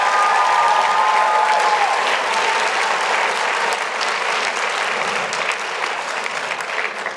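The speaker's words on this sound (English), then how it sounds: "Give them a round of applause." Audience applause at a kindergarten-to-grade-5 school Christmas concert, a steady dense clapping from a full room that holds for several seconds and slowly thins toward the end.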